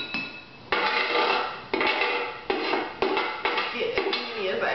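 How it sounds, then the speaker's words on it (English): Sliced onions go into a pan of home-cooked Salisbury steak, landing in a series of loud clattering, scraping bursts of metal and food against the pan over about five seconds. "So we're just going to add these onions right in here."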